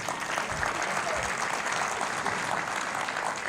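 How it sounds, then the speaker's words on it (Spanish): Audience applause during a church sermon event, a steady dense wash of clapping held at an even level for several seconds with no distinct voices over it. "Un aplauso a Robert."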